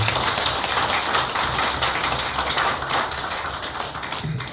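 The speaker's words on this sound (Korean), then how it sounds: "함께 저 반가운 환영의 박수 보내주시기 바랍니다." A room of people at a press conference gives dense, close welcoming applause, a steady patter of many hands that tapers slightly near the end.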